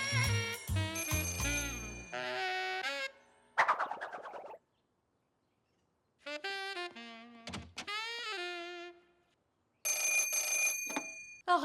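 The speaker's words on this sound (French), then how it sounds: "Arrête de faire sonner les téléphones" Telephones ringing in an animated cartoon, heard as several bursts of bright, trilling bell tones broken by short silences, loud and close.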